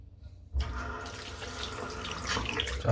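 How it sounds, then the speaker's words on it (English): Hot water runs from a tap as a razor is rinsed under it, starting abruptly after a short quiet moment and then rushing and splashing steadily and close, with no speech. "just with a quick rinse in the hot water, it's crystal clear."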